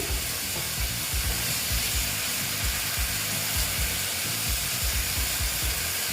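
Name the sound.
sautéing small fish masala in a pan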